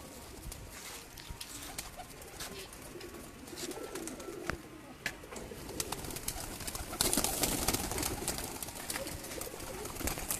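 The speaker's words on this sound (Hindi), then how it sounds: "ये उस्ताद बिनियामिन साहब के टैडी कबूतर हैं।" Teddy pigeons coo softly in a breeding setup, low murmuring calls under a busy background of clatter and rustling that grows louder toward the end.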